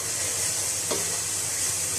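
Masala for karhi pakora frying in a pan, a steady close sizzle and hiss with a brief stir scrape near the middle, no talking.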